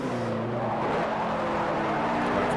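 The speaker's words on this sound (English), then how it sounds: "Lovely sound to the engine. It's angry. It's working." A Ford RS Cosworth in the racing game Forza 4 roars steadily at high revs, its engine note loud and continuous with a hint of tire noise throughout.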